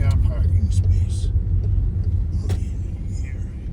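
A car driving up to park at the roadside between Ajijic and Chapala, engine rumbling low and steady up close, with a few faint clicks and rustles and a soft voice murmuring.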